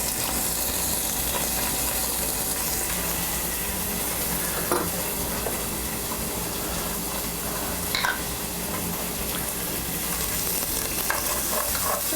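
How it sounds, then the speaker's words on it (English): Minced anchovies heat in a pan while cooking a puttanesca sauce, giving a steady, close sizzle and frying hiss with a few light stirring clicks throughout. "I'm just going to heat those up just for less than a minute."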